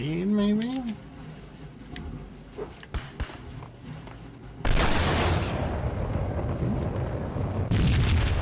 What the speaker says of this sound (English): Grenade, maybe?